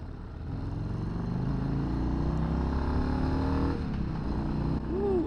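A 2025 Harley-Davidson Street Bob with the 117 engine runs with a low, throaty rumble that swells as it revs and rolls, sustained and fairly close, ending with a brief rising whine.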